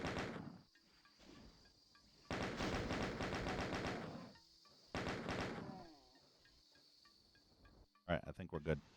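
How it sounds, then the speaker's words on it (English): Chaingunner enemy in a Doom level firing its chaingun in two sustained rapid bursts, loud and close, separated by quieter game sounds, with a brief clatter of other action at the end. "Chain gunner way over there was hit."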